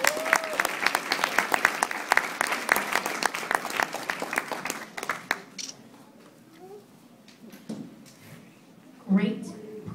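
An audience at a student award ceremony claps loudly and steadily for several seconds; the applause then fades into quieter room sounds and a few scattered voices.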